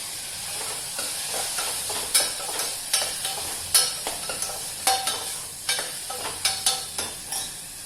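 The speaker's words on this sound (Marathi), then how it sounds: "कांदा टोमॅटो छान झालेला आहे परतून" Onion and tomato sautéing in a pan: a constant close sizzle with frequent sharp scrapes and knocks of a spoon as they are stirred, no voices.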